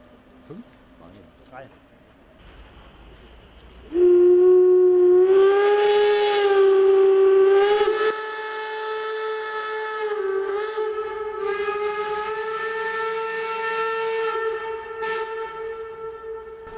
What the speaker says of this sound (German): Mit voll geöffneten Zylinderhähnen fahren die Dampfloks jetzt ab.